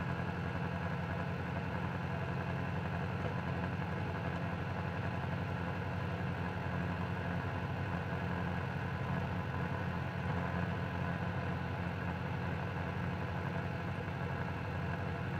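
A Freedom Scooters Veracruz 150 scooter engine hums steadily while riding at speed, a continuous even drone with wind rush and no voices.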